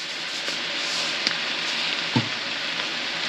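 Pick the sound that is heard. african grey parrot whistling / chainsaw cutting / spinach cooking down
spinach cooking down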